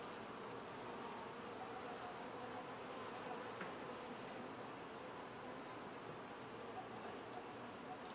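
A honeybee swarm buzzes around comb frames in a hive: a soft, continuous droning hum of many insects at close range, steady throughout with no talking.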